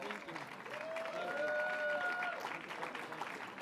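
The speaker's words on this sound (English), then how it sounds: "Let's give her a big round of applause." Applause from an audience at a legislative caucus gathering with Governor Cuomo, a steady wash of clapping lasting several seconds at moderate distance, with faint voices and a brief tonal sound mixed in.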